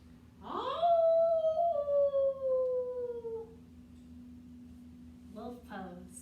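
A person rising into a wolf-howl imitation, one long sustained call sliding gradually downward, close and clear over a low constant hum, followed later by a brief voiced exclamation.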